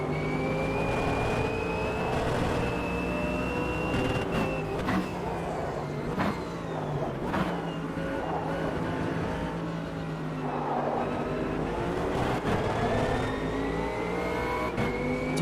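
GT race car engines roar continuously in the Automobilista 2 racing game, with steady high-revving tones rising and falling through gear changes as several cars run close together, loud and unbroken throughout.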